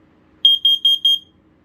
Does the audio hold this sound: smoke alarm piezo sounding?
yes